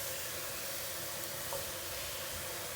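Chopped bottle gourd cooking in a pan on the stove: a continuous, even sizzling hiss of frying, fairly quiet and close, with no voices.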